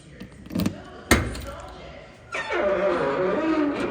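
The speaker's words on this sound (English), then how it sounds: "Trunk opens nicely. It creaks a little bit." The trunk of a 1967 Pontiac GTO, an old car, is handled with a couple of sharp thumps, then swings open with a drawn-out creak, close and moderately loud.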